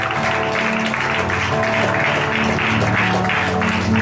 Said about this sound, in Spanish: Denle palmas al Rey con todas sus fuerzas.